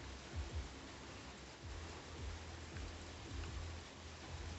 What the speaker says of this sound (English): sorry for the rain in the background